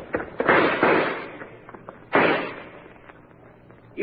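Gunshots in an old-time radio crime drama ring out as a few sharp, loud bursts separated by short gaps, with no talk.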